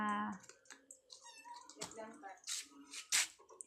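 Small stray kittens mew repeatedly in short, high, close calls at a home during feeding time. A person speaks softly between the meows, and faint clicks sound in the background.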